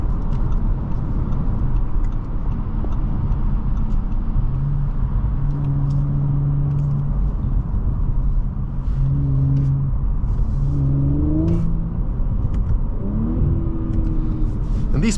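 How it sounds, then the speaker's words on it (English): A 2023 Audi S5 Prestige accelerates hard with a steady loud engine roar and rising gear pulls, real exhaust pops crackling faintly near the end. "And these pops, they're real pops."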